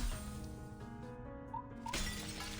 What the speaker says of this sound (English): She turns around and fires a shot at the corner of the window.